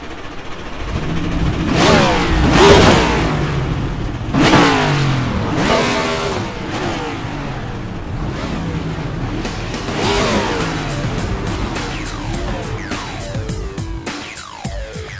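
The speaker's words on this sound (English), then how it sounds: "drivers, start your engines." Race car engines in the iRacing video game of an eNASCAR series at Dover start and rev together, loud overlapping roars rising and falling repeatedly into a dense, continuous engine drone.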